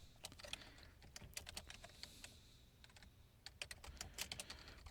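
Quiet clicking as someone types a title on a computer keyboard, short bursts of close, light keystrokes with brief pauses between them, no talking.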